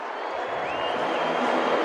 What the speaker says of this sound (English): He gives the Suns something to cheer about here at the Gabba.